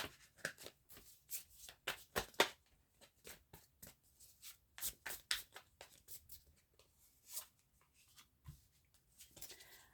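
Tarot cards are shuffled by hand in quick, crisp bursts of riffling and patter. The sound is quiet and close, with a short pause partway through and no talk.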